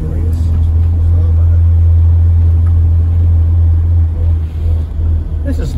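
A 1979 Series 3 Morris Marina driving along, its engine a steady low rumble that fills the cabin throughout, with road noise layered on top and no break in the drone.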